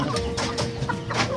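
Shamo chickens cluck repeatedly in a short burst of close, fairly loud calls on a rural farm, with several overlapping birds and no talking.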